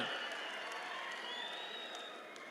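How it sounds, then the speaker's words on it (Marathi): A crowd at a BJP political rally in Jath, Maharashtra, applauds, a dense, continuous wash of clapping heard from a distance that holds steady for a few seconds and then slowly eases. "सगळ्यांनी उभा राहून टाळ्या वाजवून सगळ्यांनी आभार माना"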